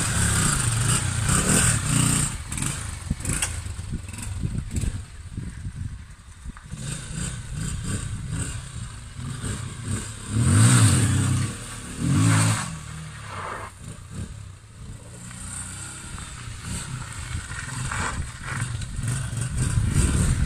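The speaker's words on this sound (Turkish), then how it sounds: "Şimdi egzozu da takıp marşımızı yapıp debriyajımızı test edeceğiz." A Honda motorcycle engine is started after a clutch plate replacement and revved in a workshop, with uneven idle and two sharp, loud throttle blips in the middle before settling back to a rough idle.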